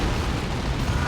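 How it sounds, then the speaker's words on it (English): A Blast Master's explosive shot in the Dawn of War 2 strategy game: a dense, loud, rumbling roar of blast and debris that fills the whole moment without pause, with no voices. "Blast Master gets a very good shot on those shooter boys."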